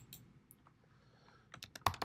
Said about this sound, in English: I'm going to type, click inside there.